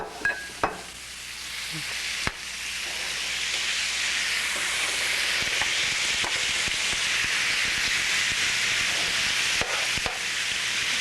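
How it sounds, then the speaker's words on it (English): Mushrooms and onions browning in olive oil in a pan, stir-fry style, sizzle in a loud steady hiss, with a few sharp clanks of stirring near the start and occasional taps later. "You put that all in there, and we're going to brown that up."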